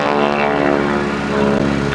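A propeller airplane drones steadily overhead during an air show, a loud continuous engine hum with no breaks across the whole stretch.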